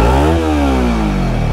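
A Kawasaki Ninja 300 motorcycle exhaust rumbles loud and close, its steady engine drone briefly blipped and easing back into a smooth idle-like rev, with no voices over it.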